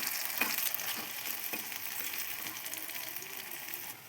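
Pea fritters sizzle steadily in hot oil in a wok, with a few soft knocks and scrapes as they are turned over, close up and continuous, with no talking.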